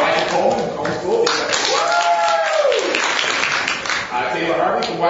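Audience applause and cheering during contestant introductions at a high school quiz show, continuous clapping throughout with a host talking over it.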